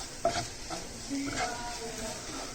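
Masoor dhal tadka with sambar powder cooks on slow heat, a soft sizzle with a few stirring scrapes and a light clink in the pan, heard close over about two seconds.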